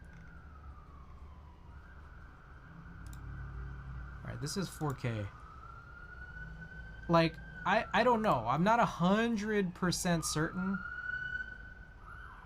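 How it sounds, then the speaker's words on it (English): Police sirens pass outside, a steady wailing tone audible behind someone speaking indoors throughout, rising and falling as the vehicles go by. "I apologize for the sirens"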